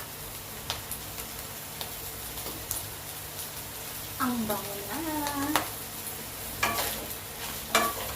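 Tuna and vegetables with bell pepper sizzling and stirring in a pan, a steady fry hiss with scraping utensil taps, while a person speaks briefly over it.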